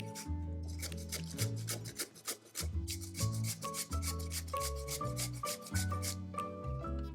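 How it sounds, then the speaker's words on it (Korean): Repeated rasping strokes of two cucumbers being shredded on a julienne grater, steady and rhythmic, with music playing loudly over it. "오이를 가는 채를 이용해서 이렇게 채 쳐주도록 하겠습니다"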